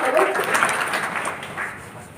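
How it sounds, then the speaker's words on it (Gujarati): An audience applauds during a motivational speech event in Ahmedabad, with moderate scattered clapping mixed with crowd murmur and voices throughout. "તાળી પાડો"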